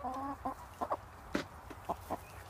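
Buff Orpington hens cluck softly nearby, a few short, spaced calls and low murmured clucks at an uneven rhythm against a quiet background.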